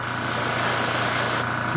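A hissing airbrush sprays primer onto a tabletop fantasy miniature in a steady, loud, close burst that cuts off abruptly near the end.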